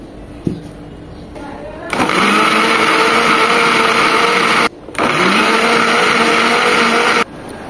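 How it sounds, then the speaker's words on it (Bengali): A blender jar loaded with beetroot, chopped ginger and a mug of water whirs loudly and close in two long runs separated by a short pause, after a moment of quieter handling. "একটা ব্লেন্ডার জারে দিয়ে দিচ্ছি সব বিট এবং আদা কুচিটা। এটাকে ব্লেন্ড করার জন্য"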